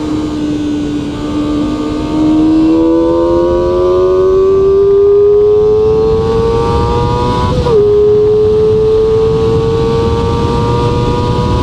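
QJMOTOR SRK250RD motorcycle revving, its exhaust note climbing in a long steady rise in pitch, dropping briefly when the rider shifts, then climbing again, loud and close throughout with no talking.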